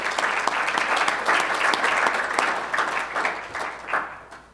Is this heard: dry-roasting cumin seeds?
no